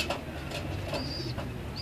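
Pigeons coo softly on a rooftop, a few low murmuring calls close by over light background hiss, with a brief thin tone in the background.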